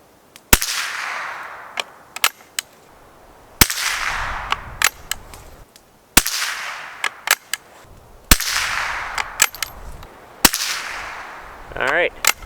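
Five .22LR CCI MiniMag rounds fired from a Schultz & Larsen Otterup rifle, each a sharp, loud crack spaced a couple of seconds apart with short echoing tails, and a brief mechanical rattle near the end.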